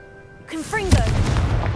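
In Hogwarts Legacy, a cast of the Confringo spell gives a single sharp, explosive blast after a brief rising magical whoosh, followed by a sustained rumbling tail. A faint voice-like tone is heard just before the blast.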